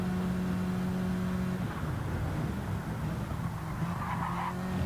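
Tire squeal from a GT race car sliding under heavy braking in a racing video game, a steady screech over the engine drone that holds loud and continuous throughout.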